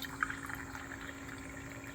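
Water pours steadily from a push-button dispenser in a backyard, a soft continuous trickling stream under faint background hum, with no talking.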